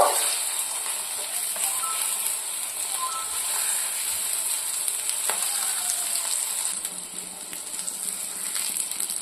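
Potatoes frying in hot mustard oil in a pan, a soft continuous sizzle with occasional scrapes and light clicks as pieces are turned, close and fairly quiet.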